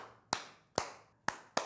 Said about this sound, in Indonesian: Saya akan berikan tepuk tangan untuk Infinix